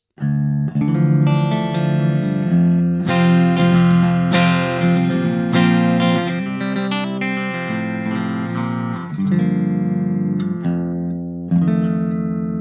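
Electric guitar played with a Prisma pick through an effects pedal, bright strummed and single-note phrases with a shimmering, slightly distorted tone and lingering ring.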